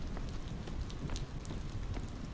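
Rain in the video game Call of Duty Advanced Warfare, a steady soft hiss of falling drops spattering on surfaces, faint and even throughout with no talking.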